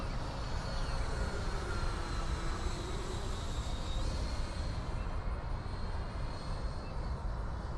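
An E-flite Viper 90mm RC electric ducted-fan jet roars overhead with a continuous rushing whine, holding at an even level throughout.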